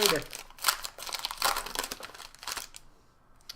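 A Magic: The Gathering Born of the Gods booster pack wrapper is torn open and crinkled close up, several sharp rustling bursts of foil plastic, with quiet talk in the background.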